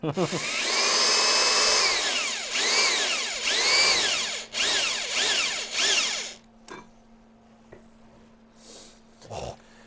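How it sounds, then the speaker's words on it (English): A power drill whines loudly in several bursts that rev up and wind down, then stops, leaving a quieter hum and a few faint clicks. "Here, the new drill is quieter."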